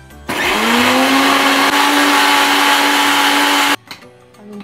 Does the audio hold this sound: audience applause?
no